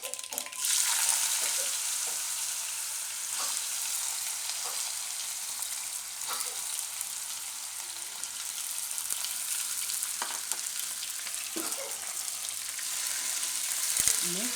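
Potatoes fry in hot oil in a pan for a Gujarati ridge gourd and potato dish. A constant crackling sizzle carries on throughout, with scattered small pops and clicks and a slight scrape near the end.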